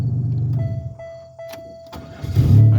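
A 1997 Pontiac Grand Prix engine shutting off, its low idle rumble fading and falling quiet, followed by faint clicks and a brief louder rumble near the end.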